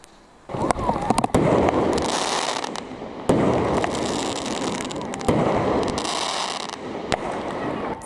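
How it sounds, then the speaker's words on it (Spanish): Firecrackers bursting repeatedly among the hills of Comas, Lima, Peru, loud sharp cracks and booming blasts with rolling echoes, several salvos separated by brief pauses, heard without speech. "La explosión de petardos haciendo eco entre los cerros de Comas"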